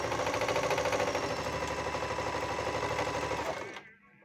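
A Panavox 8160 sewing machine running a straight stitch, a fast, even mechanical whir with a rapid needle rhythm, loud and close, that winds down and stops near the end.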